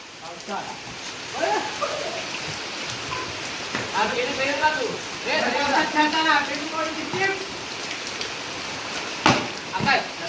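Rain falls steadily during a cricket game in Konkan, a constant hiss behind lively voices chatting and calling out, with a few sharp knocks near the end.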